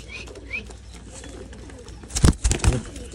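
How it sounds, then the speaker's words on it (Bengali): Racing pigeons coo nearby, with soft low throaty calls that swell into a couple of louder coos near the end over faint background chirps. "রেসার কবুতর কিন্তু কথা বুঝে"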